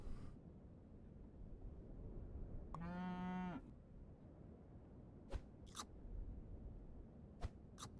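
A single drawn-out cow moo from the video game Super Auto Pets sounds clearly in the middle, followed by a few short, sharp game clicks over a quiet background hum.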